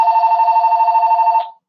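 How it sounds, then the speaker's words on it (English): A telephone rings loudly and steadily in a rapid electronic trill, one continuous burst that cuts off abruptly, alone with no talking over it. "I'm sorry about the phone ringing."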